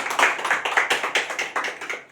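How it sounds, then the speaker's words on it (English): Rhythmic clapping for a speaker at a public speaking session, a brisk series of about a dozen sharp claps in a steady beat, fairly close and alone without talk. "Clapping for him."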